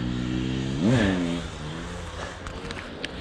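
A dirt bike engine revs climbing a mountainside in Israel, one surging rise in pitch near the start that then fades into a lower drone, with faint clatter toward the end.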